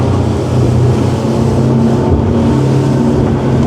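Scanner Envy 1100 inboard motorboat accelerating at sea, a loud steady engine drone with low hull rumble and rushing wind and water, close and continuous without speech.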